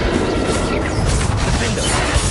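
A Confringo fire spell blast in Hogwarts Legacy erupts as a loud, dense crackling rumble with crashing, mechanical impacts that sustain throughout.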